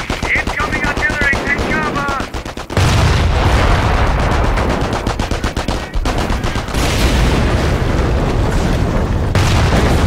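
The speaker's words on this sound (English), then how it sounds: "artillery, take cover!" A Company of Heroes battle at the Falaise Pocket: heavy incoming artillery shells burst in loud booms over constant rattling machine-gun fire, with shouted voices mixed into the din.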